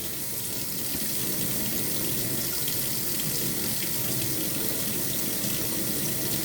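Hot water runs steadily from a kitchen sink faucet, a loud continuous rushing splash close by with no talk over it.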